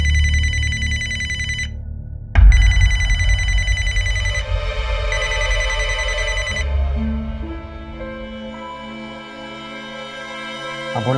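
A telephone rings with a repeated electronic trill, loud and close, mixed with dramatic background music in a television crime drama scene.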